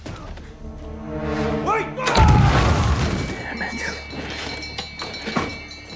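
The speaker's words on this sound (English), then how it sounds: "Moments later, a powerful explosion goes off." A single heavy boom from a powerful explosion in a booby-trapped workshop in an action movie hits right after a shouted word, followed by rumbling debris and voices.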